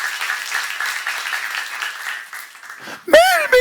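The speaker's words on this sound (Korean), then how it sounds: "박수." Audience applause fills a church seminar hall, a dense steady clapping that runs for about three seconds before a voice breaks in over it.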